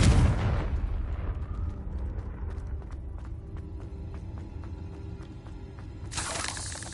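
The Confringo blasting spell goes off in Hogwarts Legacy with a loud explosive burst and crash that decays into a long rumbling, crackling tail. A second blast-like swell comes near the end.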